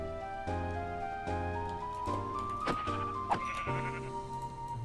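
Minecraft sheep bleat repeatedly in a steady series of close, clear calls, layered over soft background game music, with no one speaking.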